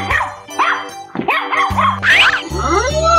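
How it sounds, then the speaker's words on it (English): A cartoon dog gives a quick series of loud, close barks and yips against a bright musical backing. "Dog."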